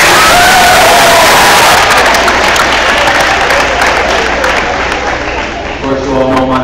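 School assembly audience applauding a state senator, loud dense clapping with some cheering from a large crowd of children, close and filling the room, fading slightly near the end.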